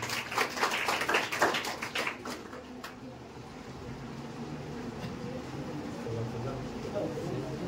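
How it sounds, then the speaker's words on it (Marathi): Audience applause at a felicitation ceremony for students who excelled in the 10th and 12th board exams, clapping loud at first, then fading within a few seconds into a low room murmur. "जोरदार टाळ्या वाजवा यांच्यासाठी सुद्धा"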